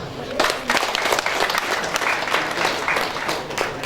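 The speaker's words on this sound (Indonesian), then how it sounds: "tepuk tangan." Steady crowd applause at an outdoor campaign rally for a governor and vice-governor race in Kupang, NTT, dense clapping holding evenly throughout with some voices mixed in.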